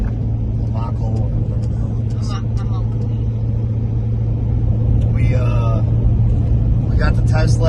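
Steady engine rumble and road noise from inside a car driving home from Immokalee, Florida, a constant low drone with a faint hum, while people talk over it.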